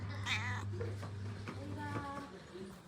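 A cat gives a drawn-out, whiny meow close by, followed by a shorter softer mew, with a steady low hum beneath and a person speaking quietly nearby.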